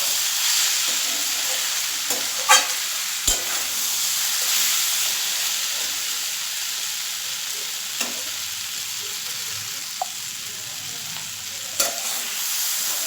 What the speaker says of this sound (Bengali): এবার আমি একটু ভেজে নিচ্ছি এটাকে